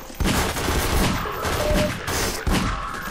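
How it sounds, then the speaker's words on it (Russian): Dense bursts of rapid gunfire in Half-Life 2: Episode Three ring out continuously, loud and close, with a sharp break in the middle before the shooting resumes. "Это два раза надо выстреливать"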